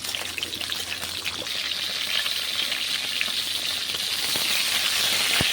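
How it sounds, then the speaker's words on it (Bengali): Pointed gourd frying in hot oil gives a loud, steady sizzle and crackle that runs unbroken from start to finish, with no voices. "আর এখন আমি গরম তেলে পটলটা দিয়ে দিচ্ছি।"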